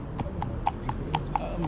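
Hooves of Murphy, a well-fed, energetic cob being retrained after earlier driving work, clip-clop in a steady, even rhythm close by, each strike sharp and distinct over low background noise.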